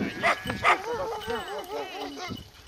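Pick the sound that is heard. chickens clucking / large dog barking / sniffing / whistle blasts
large dog barking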